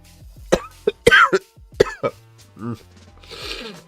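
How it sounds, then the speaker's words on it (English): A single person coughs a few times, sharp close bursts in a quiet indoor room during a live market-news stream, with some brief speech mixed in. "That was a cough"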